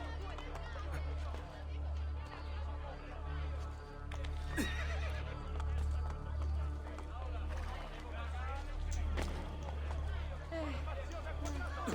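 Horses in Assassin's Creed Brotherhood whinny and neigh repeatedly over rumbling hoofbeats and low, throbbing background noise, with indistinct voices mixed in.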